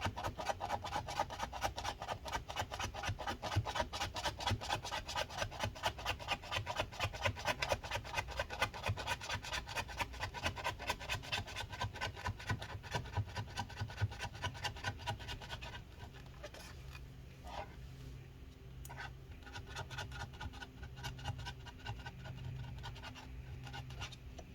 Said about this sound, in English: just keep scraping up all this adhesive